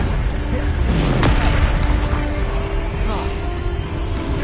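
A Bombarda spell explosion in Hogwarts Legacy on PS5 lands as a deep, booming blast about a third of the way in, set within a steady, dense wash of game effects and low rumble, with voices mixed underneath.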